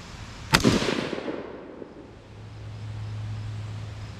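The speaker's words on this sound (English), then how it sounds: "it won't let me shoot off the bipod from prone" A single sharp AR-15 rifle shot cracks out during a prone accuracy test at a range, loud and close, followed by a fading echo and quiet ambient hum.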